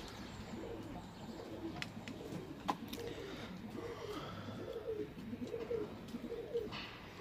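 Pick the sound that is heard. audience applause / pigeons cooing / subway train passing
pigeons cooing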